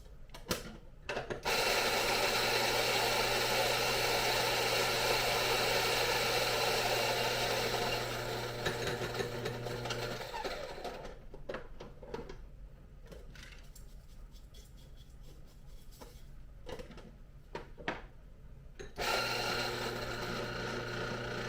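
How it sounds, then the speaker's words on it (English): A coffee grinder grinds beans for a Hario V60 brew, a buzzing mechanical whir that runs steadily, drops away into quiet clicks and rattles, then starts again near the end. "And then I take this, I toss it into my grinder"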